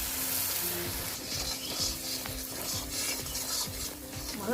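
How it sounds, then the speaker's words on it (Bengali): Masala paste of cumin and garlic frying in oil with a splash of water, a loud close crackling sizzle with a spatula scraping and knocking against the pan in quick strokes. "মশলাটা তেলের ভিতরে দিয়ে দিই দিয়ে দিচ্ছি সামান্য জল"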